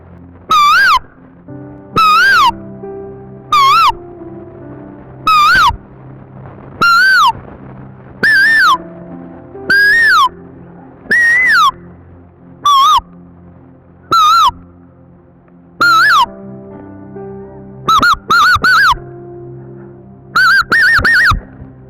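A farmer whistles an imitation of a koel's call, repeating rising, melodious phrases in regular bursts about every one to two seconds, close and clear over a steady low background hum.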